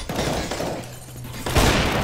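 Brief, close bursts of gunfire in a first-person shooter video game, a noisy volley that fades and then returns with a heavier blast near the end.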